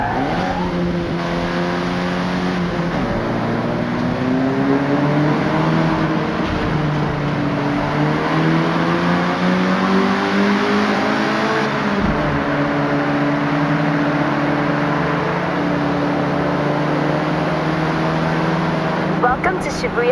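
A Honda Civic RS engine drones steadily in the Forza Horizon 6 racing game, rising and falling through gear changes as it drives, with someone talking over it for much of the time.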